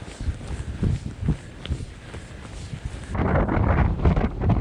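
Rough, buffeting wind noise batters the microphone in uneven gusts on a ridge near Nordkapp, Norway, growing stronger and more constant toward the end.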